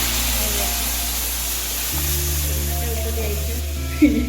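A steady, loud sizzle of dal hitting hot oil continues throughout, with a brief clatter near the end.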